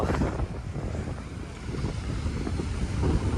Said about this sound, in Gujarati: પવન ચાલે જો